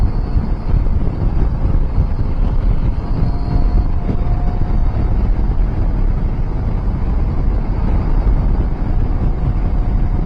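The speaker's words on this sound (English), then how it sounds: "I can already tell even at 30-40 miles an hour there's a lot more wind" Steady, loud wind buffeting roars across the helmet of a rider on a KTM 790 Adventure motorcycle cruising at 30–40 mph with a low screen, a continuous broadband rush with no talk.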